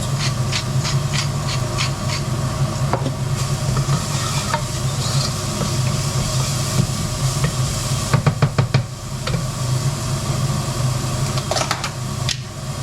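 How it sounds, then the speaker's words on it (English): Onions sweating in a pan with salt, giving a steady close sizzle and hiss with occasional stirring scrapes and clicks of a utensil, no voices. "You're just sweating it off, letting all that moisture and flavour come out."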